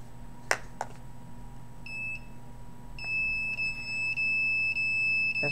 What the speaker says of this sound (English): That's the cell phone being activated.